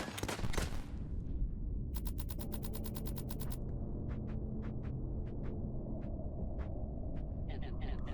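Gunshots in the game The Hex: a fast crackling burst of rapid fire, then a string of separate sharp shots spaced out over a dense, steady noise bed, with speech running underneath.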